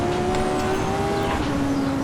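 Race car engine humming at a steady high pitch while driving a track in Assetto Corsa, with a slight pitch dip midway, continuous and fairly loud, no talk.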